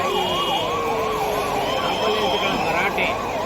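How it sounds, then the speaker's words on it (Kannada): An ambulance siren wails steadily and loudly through a dense festival crowd at the Puri Rath Yatra, its rising and falling tone cycling without a break over a murmur of people. "ಆಂಬುಲೆನ್ಸ್ಗಳ ಭರಾಟೆ ಅಂತ ನಮ್ಮ ಆಂಬುಲೆನ್ಸ್ಗಳ ಭರಾಟೆ"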